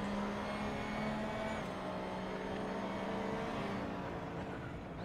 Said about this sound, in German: ich nehme die Kurve scheinbar richtig gut und beschleunige besser raus